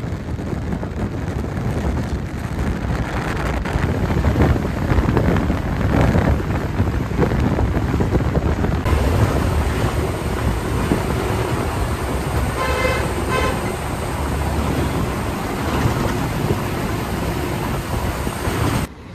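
An MSRTC state transport bus travels on the road from Chiplun toward Mumbai in the rain, its engine and tyres producing a continuous loud rumble with wind buffeting the microphone throughout.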